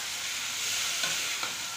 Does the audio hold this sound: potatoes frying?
yes